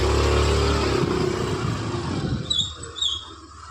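Car engine running close by as the vehicle pulls away before dawn, a steady low rumble for the first couple of seconds, then easing off and growing quieter; a few faint high chirps appear near the end.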